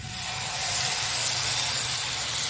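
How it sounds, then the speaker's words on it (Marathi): A loud, continuous hiss rises as batter meets a hot griddle, steaming steadily throughout without any voices. "तवा तापलेला आहे वाफ लागतीये आहे गरम गरम चला आता हे नुसतं बॅटर असं घालायचं"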